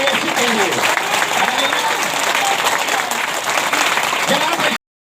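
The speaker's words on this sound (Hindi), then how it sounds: "ताली बजाने में कमी मत करिए, मेरे लिए नहीं, मेरे यीशु के लिए" A church congregation applauds during a sermon, a loud, dense round of clapping that runs several seconds with a voice speaking over it before it cuts off abruptly.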